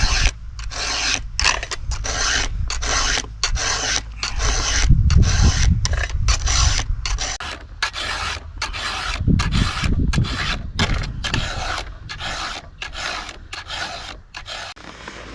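A hand file rasps across the teeth of a chainsaw chain in a steady back-and-forth rhythm of quick, gritty strokes. The strokes repeat for the whole stretch, close and moderately loud, with a low rumble underneath at times and no talking.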